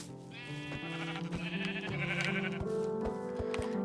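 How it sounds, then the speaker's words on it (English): Sheep in the Minecraft video game bleat repeatedly, with several wavering, tonal baa calls overlapping in quick succession over steady game background sound and occasional clicks. "Come here, you dumb sheep. I need your wool."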